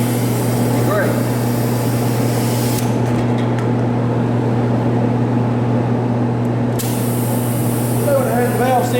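Compressed air hisses steadily into a gooseneck trailer tire, a loud continuous rush with a low hum beneath it that briefly shifts in tone partway through.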